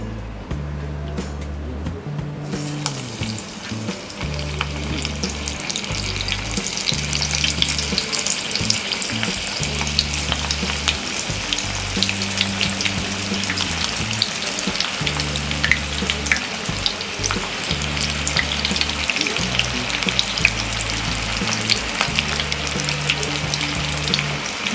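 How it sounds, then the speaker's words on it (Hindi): Cauliflower pakoras coated in gram flour batter deep frying in a kadhai of hot oil, a loud continuous bubbling sizzle with fine crackles, heard up close over a rhythmic low background hum. "हमने इसे 3 से 4 मिनट तक दोनों तरफ फ्लिप करते हुए फ्राई कर लिया है।"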